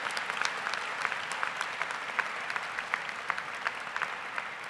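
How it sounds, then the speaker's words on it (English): At a high school graduation ceremony, an audience claps in a soft, distant patter of applause with individual sharper claps standing out, steady throughout. "Seniors, if you would, give them a round of applause,"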